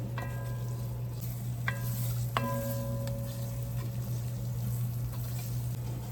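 Chopped white onion sizzles steadily in a hot Cajun roux while a spoon stirs it, making a constant frying hiss broken by a few light clinks against the pot, with no talking.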